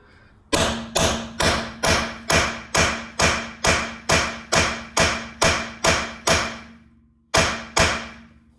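A hammer hits a brass Dynomec tool, driving it onto an over-tightened locking wheel nut. Fourteen loud, close, metallic blows land in a steady rhythm, with a short pause before the last two.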